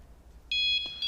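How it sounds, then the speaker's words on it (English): A security alarm guarding the tapestries at Hampton Court Palace abruptly sounds a loud, steady high-pitched electronic tone partway through, cutting in over a quiet room. "That's just the alarm to stop people from touching the tapestries."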